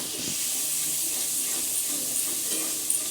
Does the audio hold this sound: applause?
no